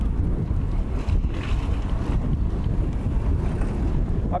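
Wind roars into the microphone of a cyclist riding out of Myrhorod, a loud, dense, buffeting rush that continues steadily for the whole stretch.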